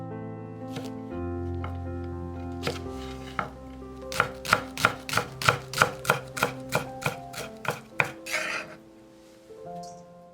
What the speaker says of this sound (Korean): 대파 4분의 1 줄기는 쫑쫑 썰어서 담아주고